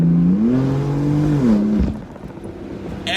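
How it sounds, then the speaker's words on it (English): BMW M4 F82 driving through canyon roads, its exhaust note close and loud, climbing in pitch under throttle, holding, then dropping away into a quieter, rougher tail near the end. "That exhaust note never gets old."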